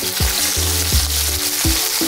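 Shrimp and spices sauté loudly in a hot pan, with a dense sizzle throughout and low, periodic knocks as the pan is moved.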